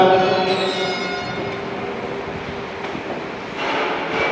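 A train runs along the track with a steady, loud rumble and some high tonal whine, holding continuously throughout with a slight swell near the end.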